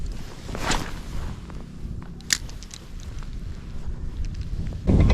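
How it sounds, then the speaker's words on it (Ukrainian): Wind gusting into the microphone beside a canal while spin fishing for pike, an uneven buffeting rumble with light clicks and handling noise, swelling loudly at the end. "Я ще з цим вітром здурію тут."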